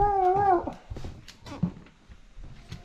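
Puppies whimpering, a few high, wavering whines up close, followed by soft yips and snuffling noises.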